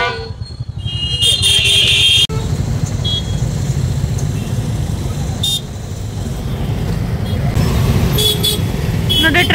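A traffic jam clogs a busy city street in Bhubaneswar during Durga Puja shopping. Engines rumble continuously while several car horns toot in short bursts, near and loud.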